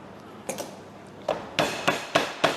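A meat tenderizer pounding chicken: several sharp, solid thuds at uneven intervals, a pair early and then a quicker run of four, close by against a quiet backdrop.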